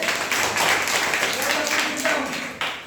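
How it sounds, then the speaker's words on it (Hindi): Classroom students clapping on cue in a dense, continuous patter, close and fairly loud, with voices mixed in underneath. "ताली बजाइए।"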